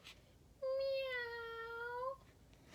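A single drawn-out, rising-then-falling meow lasting about a second and a half, clear and fairly close against a quiet background, from a gray and white kitten up in a tree; it may be a voice imitating the kitten.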